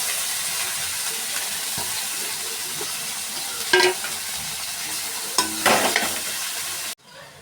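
Garlic fries in oil in a pan that has just fried fish roe, giving a loud, steady sizzle with a few brief stirring scrapes before it cuts off abruptly near the end. No one speaks.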